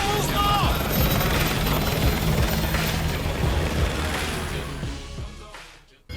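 Helicopter in the video game Call of Duty Modern Warfare 2, a steady loud rotor and engine roar filling the scene with scattered gunfire-like noise, fading near the end under occasional voices.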